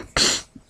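A single sharp sneeze bursts out loud and close, a quick explosive rush of breath that fades within half a second.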